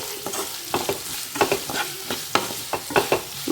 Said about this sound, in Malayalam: നമുക്ക് ഉപ്പ് ചേർക്കാം എന്നിട്ട് നന്നായിട്ട് ഇളക്കി